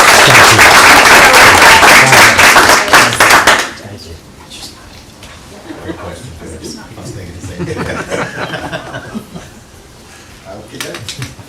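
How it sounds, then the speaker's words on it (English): Dense applause fills a county fiscal court meeting room for the first few seconds, then cuts off abruptly into quieter room sound with people talking. "give them a round of applause"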